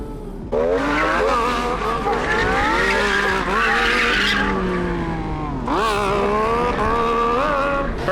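A modified Euro car laps a race track at Slammedenuff 2026, its engine loud and close as revs climb and fall through the gears, with tires squealing and skidding through the corners.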